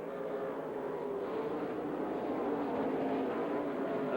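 A pack of NASCAR stock cars roars away at the green flag at Rockford Speedway in Rockford, Illinois, in a 2002 RE/MAX race, a steady, blended engine drone heard from a distance that swells slightly toward the end.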